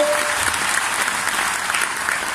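Sustained, full applause from a large audience honouring achievers at a company event, many hands clapping evenly and loudly with a faint voice briefly audible early on.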